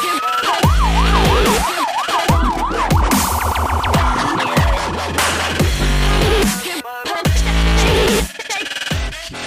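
A battery-powered toy police car plays its electronic siren, a loud wailing up-and-down tone with bursts of synthesized tones and beats, close and continuous without speech.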